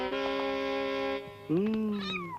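A cat gives two drawn-out, tonal meows, the first long and steady, the second rising and wavering, loud and close with no talk.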